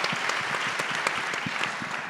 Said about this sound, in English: Let's give a round of applause after each one of